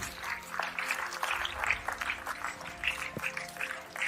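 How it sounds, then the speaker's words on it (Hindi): An audience at a health awareness program applauds to welcome a guest speaker onto the stage: dense, steady clapping from a crowd that carries on for about four seconds, with faint voices mixed underneath. "एक जोरदार तालियां होनी चाहिए।"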